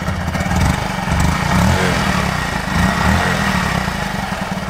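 Honda Monkey minibike engine idling steadily after a cold start, a close, continuous low putter with slight swells in level and no talk over it.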